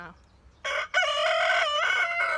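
A rooster crows loudly and close by, one long drawn-out call after a short opening note.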